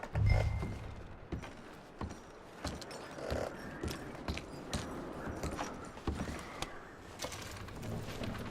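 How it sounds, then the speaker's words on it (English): Horse hooves clip-clop steadily in Red Dead Redemption 2, with a near, regular plodding rhythm over faint creaks and rattling gear. "I'm going to start packing the horses."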